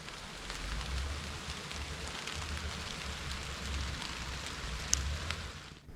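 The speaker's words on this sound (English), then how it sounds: "But the rain only started to get worse." Steady rain falling on trees, a dense continuous patter with occasional sharper drops, moderately loud and uninterrupted across the whole stretch with no voices.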